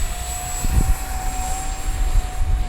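An RC F-16 model jet takes off and flies, giving a steady, loud turbine whine with a high constant tone over rushing wind and rumble, heard close and continuous outdoors.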